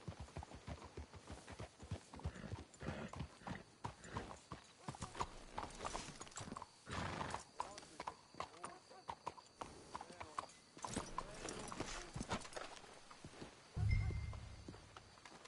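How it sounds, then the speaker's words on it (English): Horse hooves in Red Dead Redemption 2 clip-clop at a walking pace, steady and close, with a brief snort or whinny and a low thump near the end. "Let's hitch your horses up ahead."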